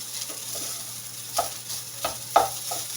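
Fried rice being stirred in a sizzling pan, the spatula scraping in a few distinct strokes over a steady close frying hiss, with no voices.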